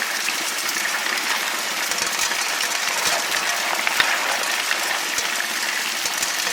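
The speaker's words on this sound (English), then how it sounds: "Pour it in, put there at the grizzly bars." Dirt and gravel poured onto the grizzly bars of a lightweight, portable Gold Fox trommel while digging for gold near Zortman, Montana, making a steady close rattling, gushing wash of grit and stones with small ticks and clinks throughout.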